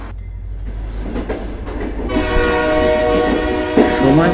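A train rumbles past with a loud sustained horn blast rising over the heavy low-end roar, close and dominant throughout.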